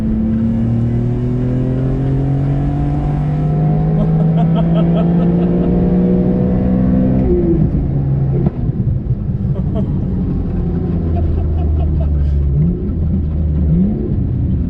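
Loud, sustained revving from an RK-tuned BMW E46 M3 engine with an aggressive exhaust, rising and falling in pitch through long pulls, with crackling and popping from the exhaust between revs and a steady deep rumble underneath.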